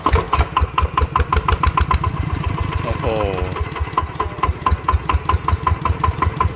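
A used motorcycle engine runs close by with a steady, fast idling putter and regular pulsing beats, while a man exclaims over it partway through.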